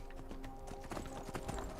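Horse hooves clip-clop in a steady trotting rhythm in Skyrim, close and clear under low background game sound.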